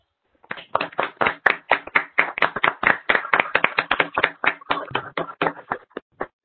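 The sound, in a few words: audience applause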